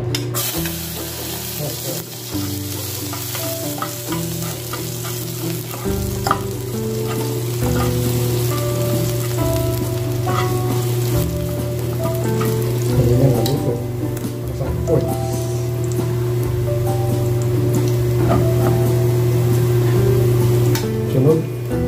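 Garlic fries in hot oil for Bicol express, a loud continuous crackle and sizzle with stirring clatter, carried over steady background music.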